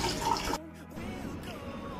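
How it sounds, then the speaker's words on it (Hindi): Water runs steadily from a tap into a container being filled for washing a car, a continuous splashing rush that holds for about two seconds. "तो दोस्तों ये पानी भर रहा हूँ मैं"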